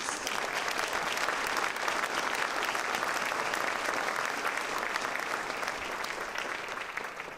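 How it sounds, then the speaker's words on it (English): A full room applauds at a mayor's 2015 State of the City address: thick, continuous clapping from a large audience, steady and fairly loud for about seven seconds, then easing slightly at the end. "One more round of applause, please."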